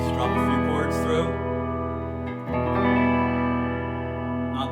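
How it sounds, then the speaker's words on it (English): Chords strummed on a Firefly FFDCD electric guitar through its treble P90 pickup, with volume at four and tone full up, ring out loud and sustained, restruck about midway with a brief gap. "I'm just gonna strum a few chords through."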